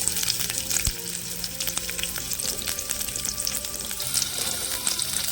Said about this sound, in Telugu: లైట్గా వేయించాలండి.